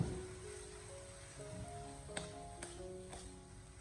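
Glass noodles with minced pork and green garlic are stir-fried in a wok after a splash of peanut oil, giving a soft, fairly faint sizzle with a few light clinks from the spatula and a faint tonal hum underneath.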